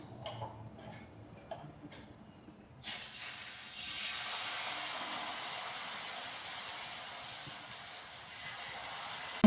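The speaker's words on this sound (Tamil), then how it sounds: "தோசை தவா சூடு ஏறிடுச்சு இது மேலே கொஞ்சம் ப்ரெஷ்ஷில் கொஞ்சம் தடவிட்டு நம்ம தோசை ஊற்ற வேண்டியது தான்" Thick adai dosa batter hits a hot dosa tawa after a few light taps. A loud, steady sizzle follows close up and hisses on without a break to the end.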